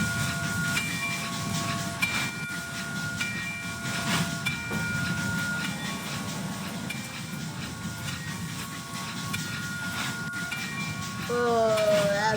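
A train rumbles steadily along with low mechanical noise and periodic tonal beeps, ending in a rising whine, sounding synthetic and game-like.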